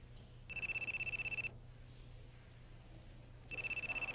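A cellphone rings in an anime episode, two bursts of a bright electronic ringtone separated by a pause of background sound, the second starting as the clip ends.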